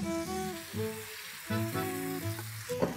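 Chicken pieces go into a pan of melted butter and oil, about two tablespoons of butter and three of oil, giving a soft, steady sizzle beneath tonal background music.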